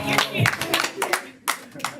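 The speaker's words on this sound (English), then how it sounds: "Clap for Adam, everyone." A short burst of scattered clapping from a small group, mixed with people talking over it.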